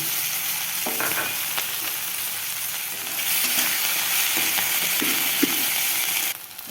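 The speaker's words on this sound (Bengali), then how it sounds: "জিরে ফোড়ন দিয়ে দেব, ফাটিয়ে রাখা কাঁচা লঙ্কা দিয়ে দেব, বেটে রাখা মশলা দিয়ে দেব।" Cumin seeds, slit green chillies and ground spice paste sizzle in hot oil in a pan, with a steady frying hiss broken by occasional stirring scrapes and spatters; no one speaks.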